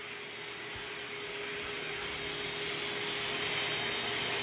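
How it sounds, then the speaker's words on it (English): A vacuum cleaner fitted with a stealth hose extension runs continuously, a steady loud broadband roar with a faint constant whine, close and uninterrupted throughout. "So this is going to be my go-to vacuum."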